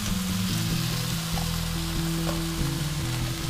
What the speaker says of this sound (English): This one we are going to sear the sides.